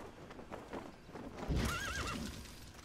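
D-Horse, the horse companion in Metal Gear Solid V: The Phantom Pain, lets out a loud, wavering whinny midway through, with soft hoof clip-clops and game ambience before it.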